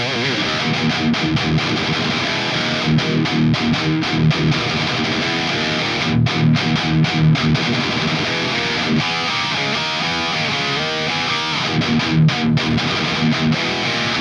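Heavily distorted metal electric guitar played through an effects pedal on a small live pedalboard, dense and loud with choppy palm-muted riffing and brief gaps, no voices.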